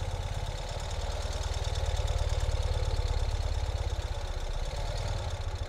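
A 2021 Ural Gear Up motorcycle with sidecar idles just after starting, its engine giving a steady, close, pulsing low thrum with a rhythmic knock that swells slightly midway and then settles.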